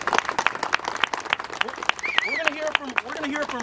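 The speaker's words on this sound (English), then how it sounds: "Everyone give her a round of applause." A scattered round of applause from a small crowd gathered outdoors before a memorial bike ride, individual claps distinct and uneven, with voices talking over it.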